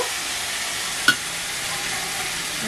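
Kochu shak (taro leaves) cooked with an ilish fish head sizzles in a pan with a constant soft hiss, marked by a single sharp clack of a stirring spoon partway through.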